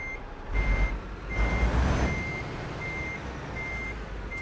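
Regularly spaced electronic reversing beeps from a truck in Euro Truck Simulator 2, sounding about eight times over a low engine rumble with a brief swell of air and noise in the middle.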